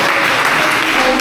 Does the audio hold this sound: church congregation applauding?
yes